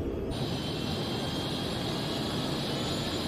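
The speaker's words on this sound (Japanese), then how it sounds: "エンジン音が変調してる" The Gun Speeder fighter craft's engine, cruising submerged in an Ultraman Mebius episode, gives a steady, loud, dense rumbling drone that holds evenly throughout with no voices.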